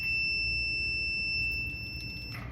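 A multimeter emits a steady, high-pitched continuity beep while testing a Samsung dryer heater element, one continuous close tone lasting about two seconds before cutting off.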